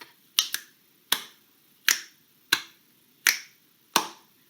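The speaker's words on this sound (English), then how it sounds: "We also said that you could do a click and a clap." A finger click and clap pattern for an A-B rhythm lesson: seven sharp, close percussive snaps in an even alternating beat, bright and dry against a quiet room.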